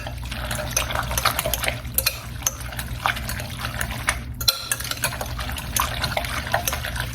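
A pan of Vidalia onion jam being stirred, the juicy, sugary mixture sloshing and bubbling with scattered spoon scrapes and clinks against the pan, close and continuous without talk.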